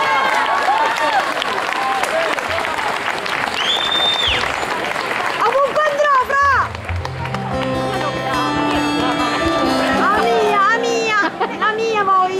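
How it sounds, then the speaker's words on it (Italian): Audience at a concert on a tour in Mussomeli, 2016, applauding loudly and continuously alongside cheering, children's voices and background music throughout. "Un applauso a Roberta Pennisi,"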